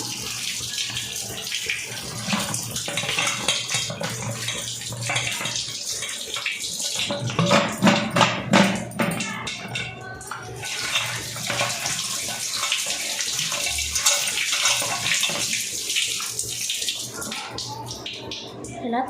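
Running tap water pours steadily as goat trotters are washed and scrubbed clean, a continuous close splashing stream with brief handling noises.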